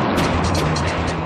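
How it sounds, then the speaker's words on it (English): Bushmaster II Mark 46 30mm chain gun firing, a dense, loud, continuous roar of rapid rounds with heavy low rumble, heard alone and close. "the brand new Bushmaster II Mark 46 chain gun"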